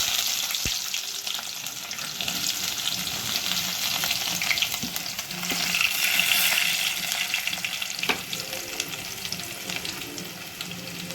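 Cinnamon, bay leaf and chopped onions frying in oil for a masala curry, a steady close sizzle with occasional stirring clinks and swells, no voices.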